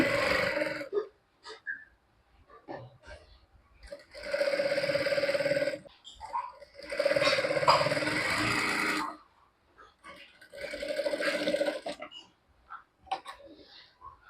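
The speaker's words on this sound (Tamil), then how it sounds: "இப்போ நம்ம எப்படி ஸ்டிச் பண்ணலாங்கிறத பார்க்கலாம் இந்த மாதிரி கால் இன்ச்சு டிஸ்டன்ஸில் வச்சு நீங்கள் ஸ்டிச் பண்ணிக்கோங்க" Sewing machine stitching the top part of a maxi dress at a quarter-inch seam distance, running in three separate bursts of a few seconds each with quiet pauses between them.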